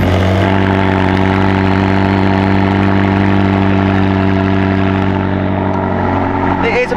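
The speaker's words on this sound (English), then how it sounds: "So compared to the Lambo, it doesn't sound as great on startup." Twin-turbo 3.8-litre V8 sports car engine, warm rather than cold, firing up and settling into a steady, loud, close idle with a deep rumbling drone that holds throughout.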